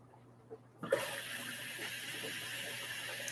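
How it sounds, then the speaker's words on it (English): An LG WM3600HWA front-loading washing machine begins filling through its detergent dispensers on the final rinse. Near silence gives way, with a sudden onset, to a steady rushing hiss of water that continues unbroken. "They fill from all 4 dispensers on the final rinse"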